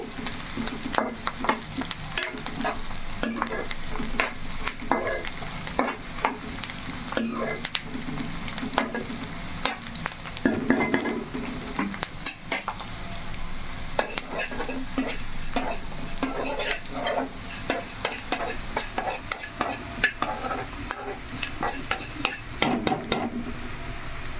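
Chicken fries with dried coconut in a pan, a continuous sizzle broken by frequent scraping and clinking stirring strokes, close and steady throughout.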